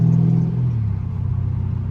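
A straight-piped widebody Dodge Scat Pack at wide open throttle, a loud close droning engine rumble that holds steady and then dips slightly in pitch.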